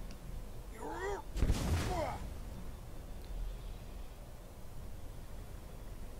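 Dragon shout from the video game Skyrim unleashing a fire breath: a short voiced call leads into a brief, loud, roaring whoosh of flame, after which only low ambient hum remains.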